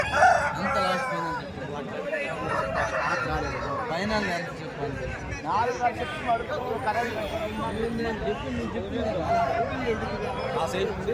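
Roosters crow over a steady hubbub of voices at a big outdoor poultry market selling many breeds of hens and roosters, with clucking mixed in and people talking nearby throughout.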